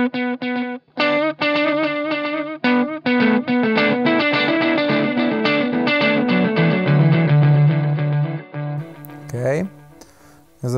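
Electric guitar played through a Universal Audio Starlight Echo Station pedal with gain pushed toward overdrive, loud sustained distorted notes and chords with echo tails, picked phrases with brief gaps, ending with a short squeal.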